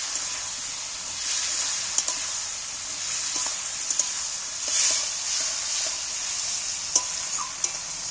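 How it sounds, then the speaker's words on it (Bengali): Jackfruit curry, with tomato and a spoonful of vinegar, stir-fried in a pan, giving a steady sizzle and hiss broken by occasional clicks of a spoon scraping the pan. "এক চামচের মতো ভিনিগার দিয়ে দিচ্ছি ভালো করে কষিয়ে দিচ্ছি"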